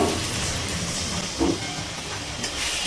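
Water poured into a hot pan of cashew, poppy seed and melon seed paste gives a broad, steady hiss and sizzle with a few brief bubbling spurts, close and moderately loud.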